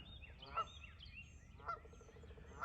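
Faint honks from a pair of geese in mating season, three spaced calls about a second apart heard from some distance against a low background rumble.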